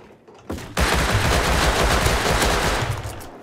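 Sustained rapid automatic gunfire in the survival video game Rust, a dense burst that starts abruptly and rattles on continuously for several seconds, loud and close.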